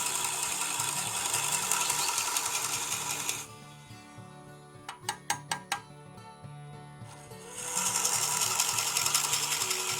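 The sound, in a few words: drill bit boring a hole in a wooden Christmas ornament on a lathe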